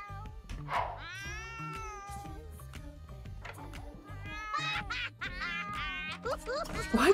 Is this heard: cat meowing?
yes